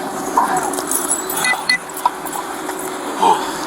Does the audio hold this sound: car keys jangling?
yes